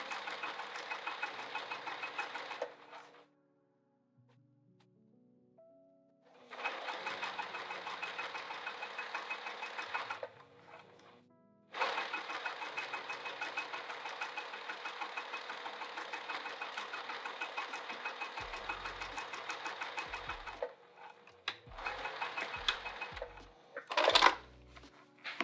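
A sewing machine stitches a seam on a fabric cover, running in several steady mechanical bursts of a few seconds each, separated by short quiet pauses.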